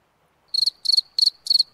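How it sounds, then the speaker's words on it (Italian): A cricket chirps in The Guest, a survival horror video game, four crisp pulsed trills in an even rhythm, loud and close against total silence. "C'è un grillo. Basta con sti grilli!"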